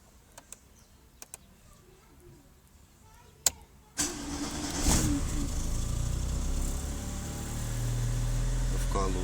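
Rebuilt 1.8 engine in a 1993 Chevrolet Kadett SLE, started cold: a few dashboard clicks, then the starter cranks briefly before the engine catches and settles into a steady, close, rumbling idle.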